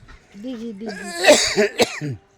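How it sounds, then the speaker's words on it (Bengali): A person coughs a few times in a rough burst outdoors at a fish pond, with some vocal sound mixed in around the coughs. "তোমার কাশির আওয়াজে মাছ চলে যাচ্ছে না"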